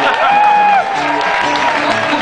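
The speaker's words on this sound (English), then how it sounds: "give yourself a round of applause" Live concert crowd in Amsterdam applauding and cheering at a show, a loud, dense wash of hands and voices that runs steadily throughout, with a voice singing or calling over it.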